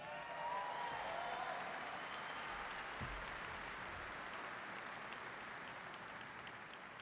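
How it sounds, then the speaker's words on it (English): Troops gathered at a base in Afghanistan give a big round of applause, a faint, distant, steady wash of clapping that fades slightly toward the end, with no voices on top. "So give them a big round of applause"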